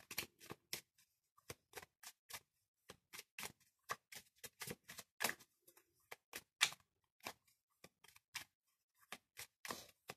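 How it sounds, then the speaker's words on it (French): Oracle cards are shuffled by hand in a quiet room, giving sharp, irregular bursts of card riffles and slaps separated by short silences, close and crisp with no talking. "Je brasse les cartes."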